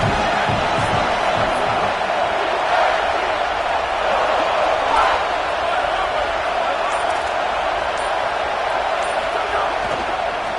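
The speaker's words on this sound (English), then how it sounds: "how nice is it to have the home crowd going absolutely bananas?" A home crowd in the College Football 27 video game roars in a steady, loud wash of cheering that stays dense throughout, with a few brief swells and thuds.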